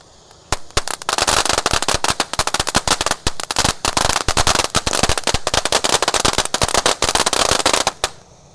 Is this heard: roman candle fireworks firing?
yes